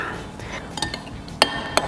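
Utensil stirring a tomato and lime sauce in a pot, quiet scraping with a few sharp metallic clinks against the pot.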